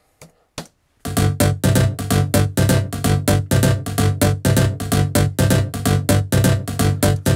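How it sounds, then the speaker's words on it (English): After a couple of brief clicks, punchy synth stabs repeat in a fast, steady rhythm, loud and bright, each chord cutting off sharply. "the main sound, it's some sort of a stabby sound that Abel came up with"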